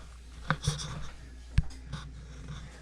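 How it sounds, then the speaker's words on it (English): A pizza is cut into squares, with a few sharp cutting strokes and scraping sounds at irregular intervals against a quiet background. "So now we cut pizza."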